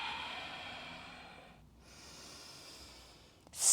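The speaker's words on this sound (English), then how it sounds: "So gather the breath in." A long, soft breath is drawn in through the nose during a yoga class, heard close up as a gentle hissing airflow. It eases off, briefly pauses, resumes faintly and ends in a sharp snort-like sniff.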